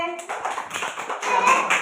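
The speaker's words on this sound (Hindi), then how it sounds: "ताली मारो समस्ते" A group claps hands together in a short burst of quick, slightly uneven claps for under two seconds, at close range.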